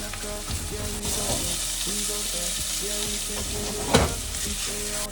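Minced garlic frying in a pan for Thai basil fried rice, a steady close sizzle throughout with light stirring clinks and one sharper knock near the end.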